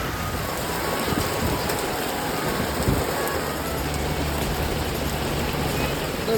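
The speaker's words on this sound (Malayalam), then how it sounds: "മഴ" Heavy rain pours steadily under trees, a dense continuous hiss that stays loud and even throughout.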